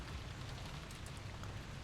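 Steady rain and wind ambience from the mystery visual novel Umineko, heard at a dining-hall scene on an island mansion: a continuous, even hiss of rainfall with a low rumbling undertone, no voices.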